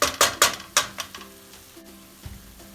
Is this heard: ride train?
no